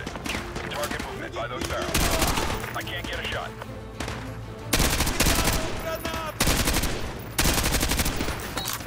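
Repeated bursts of gunfire in Call of Duty Modern Warfare 2 Remastered, loud volleys of shots arriving in clusters over steady game noise, with a player talking in between.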